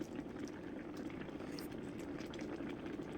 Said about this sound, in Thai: เสียงเดือดผุดๆจากว่าชาบูฟังแล้วมีความสุขเนาะ